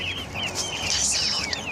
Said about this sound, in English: It's oyster catchers, oyster catchers.